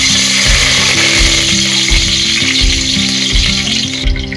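Curry leaves crackling and frying in hot oil, a loud continuous sizzle close up, with a rhythmic low mechanical hum underneath and no speech.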